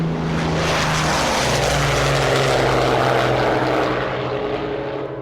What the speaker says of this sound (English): he watched the planes take off at 10-second intervals